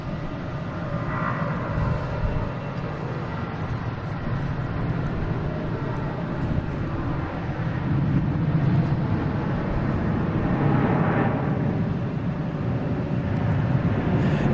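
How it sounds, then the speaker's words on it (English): A Delta Airbus A330-300 takes off at Boston Logan International Airport, heard as a steady, fairly loud jet roar that swells in the second half, with no talk over it. "taking off, we have a Delta A330 300 heading to Barcelona"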